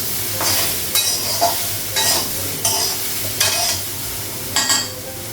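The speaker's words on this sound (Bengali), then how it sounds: "সয়াবিনটা একটু ভেজে নেব" Soybean chunks with salt and turmeric frying in a hot kadai, loud sizzling broken by regular bursts of stirring and scraping about once a second, with no talking.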